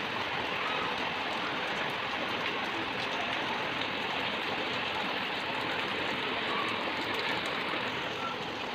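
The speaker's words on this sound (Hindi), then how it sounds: "तो ये बारिश आ गई, पर ज़्यादा बारिश नहीं है" Light village rain falls as a steady, even hiss of drops close by, holding a constant level throughout with no clear voices.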